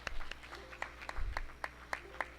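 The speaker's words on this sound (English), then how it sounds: "We want to give them a round of applause." Scattered hands clap at a school board meeting, sparse and uneven rather than a full ovation, fairly faint in a large room, with a low thump partway through.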